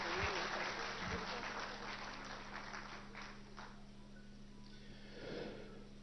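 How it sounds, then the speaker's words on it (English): An audience gives dancers a faint round of applause at a vegetable oil and oilseed roundtable event. The clapping swells briefly and then fades, heard from a distance under a low hum and scattered voices. "So please do once again give them a huge round of applause."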